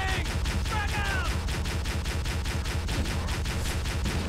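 Rapid repeated gunfire in Halo: Combat Evolved, a steady stream of loud weapon shots at an even rhythm throughout, with brief electronic game tones early on and no voices.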